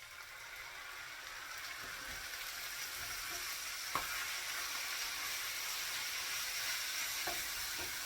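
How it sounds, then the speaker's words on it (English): Browned meat for goulash sizzles and fries steadily in a pan after tomatoes are added, a constant close hiss with a few faint clinks of a utensil. "So now we're going to add the tomatoes."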